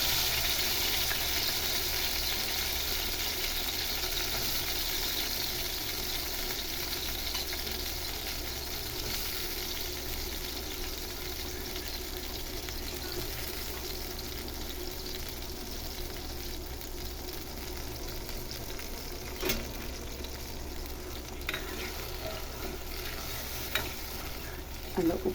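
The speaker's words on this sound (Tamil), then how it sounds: "அந்த உப்போடு சேர்த்து இது நல்லா இந்த எண்ணெயில் வதங்கும் போது" Turkey berries (sundakkai) fry in oil in a pan over low heat, a soft continuous sizzle with occasional stirring scrapes and faint clicks, steady and fairly quiet, with no talk.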